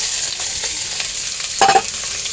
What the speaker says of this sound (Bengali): ঘি দেবো আর এর মধ্যে এই পেঁয়াজ কুচি আর টমেটো কুচিটা একসাথেই দিয়ে দেবো